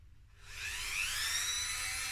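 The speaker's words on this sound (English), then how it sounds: "I'm going to get me a Dremel thing, and I'm going to fire a little hole in the side here" A Dremel rotary tool drills a small hole in the side of a guitar body, a high, thin whine that spins up quickly and holds steady, close by with no talk.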